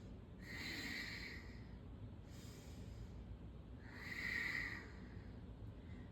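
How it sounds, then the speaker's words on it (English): Slow, audible Ujjayi breaths drawn during a yoga forearm plank, three soft hissing breaths with throaty friction, each lasting over a second and separated by pauses, close and fairly quiet. "find the Ujjayi breath"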